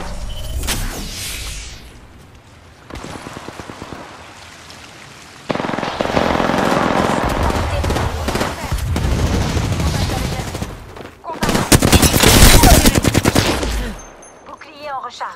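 Gunfire in Apex Legends comes in several loud, rapid automatic bursts of varying length, separated by quieter stretches, with rattling rounds and game effects close by.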